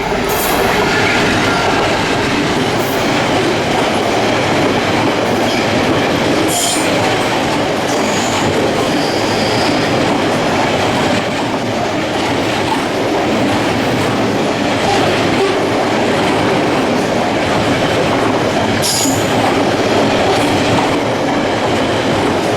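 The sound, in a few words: locomotive 66171 hauling Knowsley to Wilton binliner freight train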